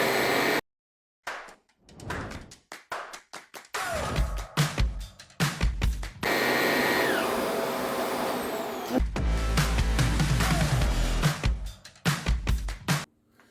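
Vax Air Lift 2 Pet upright vacuum cleaner with twin brushes, starting and stopping in short bursts then running in a loud steady whine with motor roar, pausing briefly between longer passes.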